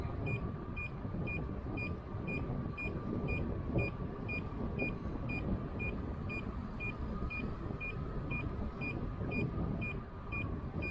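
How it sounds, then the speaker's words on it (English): Steady, evenly spaced high electronic beeps from an electric unicycle's 36 km/h speed warning repeat throughout over a constant low rumble of wind and road noise. "That beeping is only my 36 kilometer an hour beep warning."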